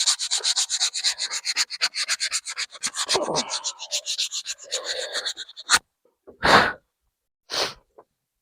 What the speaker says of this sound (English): And then the handle should be all sanded.